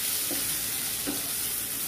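Spices and kasuri methi are stirred in a frying pan, with a steady hiss of sizzling oil under a couple of soft scraping stirs, close and continuous, without talk.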